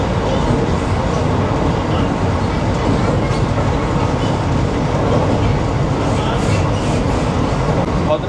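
Howrah–Puri Vande Bharat Express (22895) running at speed, a steady loud rumble of wheels and car body noise with a faint rhythmic clatter, heard from inside the coach without pause.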